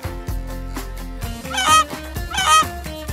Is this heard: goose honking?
yes